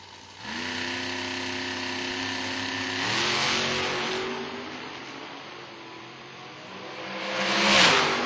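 Top Sportsman drag racing cars launching off the line at a drag strip, loud engines surging and shifting with rising tones, sustained roar that dips and swells again as another pass builds near the end.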